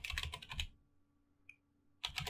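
Computer keyboard typing in two short bursts of rapid keystrokes at the start and end, close and fairly quiet, with a near-silent gap between them.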